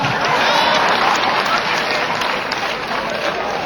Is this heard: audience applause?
yes